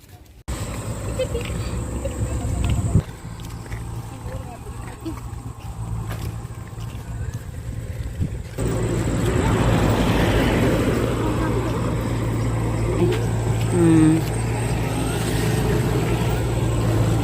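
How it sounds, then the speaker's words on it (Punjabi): A farm water pump motor runs in a Punjab village, giving a steady droning hum throughout with a high whine, while people talk over it. "ਕਿੰਨਾ ਵਧੀਆ ਲੱਗਦਾ ਨਾ ਮੋਟਰ ਚੱਲਦੀ"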